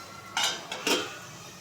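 A metal lid clatters onto a pot of pointed gourd and potato curry, two quick close clinks about half a second apart, then quiet.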